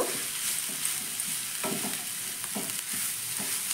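Carrot and potato pieces with salt being stirred in a pan, a steady sizzle under repeated soft scraping strokes of the spatula, close and alone with no talk.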